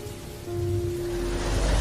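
Heavy rain falls at night as a steady, soft hiss that swells slightly over its short span, with a faint low hum running underneath.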